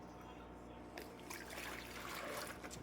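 One liter of water is poured into a bag for a Mosquito Bits test run, a steady close trickle that grows fuller and splashier partway through, with no talking.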